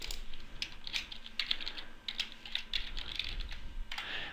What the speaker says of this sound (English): we're going to give our user a name.